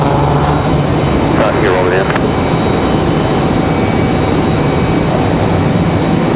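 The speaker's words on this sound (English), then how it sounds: "Good shot of our ATR this evening." An ATR turboprop at Raleigh Durham airport gives a loud, steady droning roar that fills the scene, while someone talks briefly over it.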